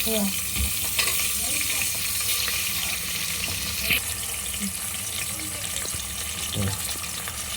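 Green chillies and chopped onions fry in hot oil for a village-style khichdi, a steady close sizzle and crackle with a few clanks of a utensil against the pan, without talk.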